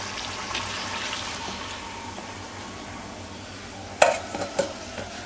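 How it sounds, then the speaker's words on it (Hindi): Gujiya fry slowly in hot oil over medium heat, a soft continuous sizzle that carries through the whole stretch, broken near the end by a few sharp clinks and splashes as they are moved. "तो मीडियम आंच पे धीमे धीमे इनको हम तल लेंगे ताकि हमारी गुजिया खुले भी नहीं और अच्छे से फ्राई हो जाए"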